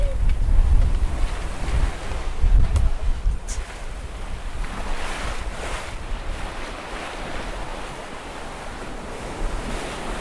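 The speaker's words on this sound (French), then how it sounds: "quand t'as de la mer comme ça et du vent comme ça" Wind roars and a rough sea churns around a sailboat crossing the Mozambique Channel, with heavy low rumbling gusts and wash rising and falling close to the microphone throughout.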